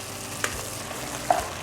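Cooked pasta folded into cooked beef in a pot for a Trinidadian mac and cheese: a continuous wet stirring and sizzle with a few distinct clinks of the spoon against the pot, close and fairly loud.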